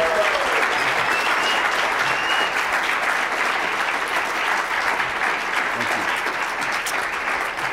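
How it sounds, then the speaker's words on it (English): A university business school audience applauds a guest speaker in a steady, dense round of clapping that holds evenly for several seconds without voices. "Let's give another round of applause to him."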